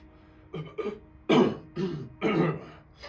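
A run of harsh coughs and throat clearing after inhaling a puff of salt, close to the microphone, in five uneven bursts of rising strength with short breaths between them.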